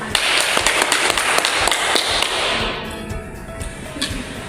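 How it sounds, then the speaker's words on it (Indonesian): Students applauding in a classroom, a burst of sharp close claps that thins out midway and fades to a few scattered hand claps and room noise. "silakan duduk kembali dan kita berikan tepuk"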